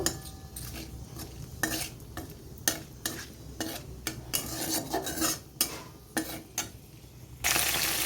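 Whole spices sizzle gently in hot oil for Kashmiri aloo dum while a spoon repeatedly scrapes and clinks around the pan in an uneven rhythm.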